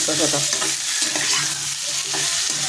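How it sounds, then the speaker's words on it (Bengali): Cucumbers frying in a pan while being stirred, a continuous sizzle broken by several rhythmic scraping strokes of the spoon, close and fairly loud with no talking. "শশাগুলি আমি নাড়াচাড়া করে নেবো"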